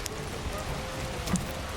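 Rain falls steadily in a soft, even hiss that carries through the whole short stretch, with no voices.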